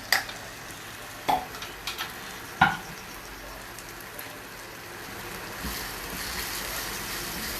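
Ground masala for paneer sukka sizzles steadily in a pan, a dense crackling hiss punctuated by a few sharp scraping knocks of a spoon as it is stirred, close and moderately loud with no talk.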